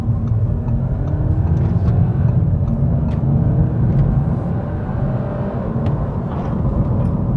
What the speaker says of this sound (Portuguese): Um pouquinho de silêncio para vocês escutarem o carro também.